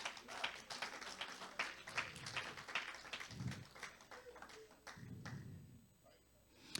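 A church congregation claps for Jesus during a sermon, with quick, irregular hand claps fairly faint in the room and brief voices breaking in between.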